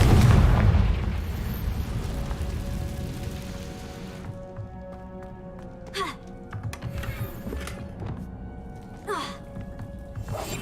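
A Confringo fire-blast spell in Hogwarts Legacy bursts with a loud, roaring boom that fades over several seconds, followed by quieter clinks, whooshes and scattered effects.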